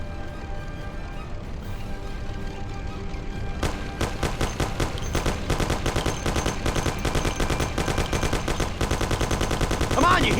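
Rapid bursts of Thompson submachine gun fire rattle in a shootout in the Mafia video game, building from scattered shots into sustained loud automatic fire.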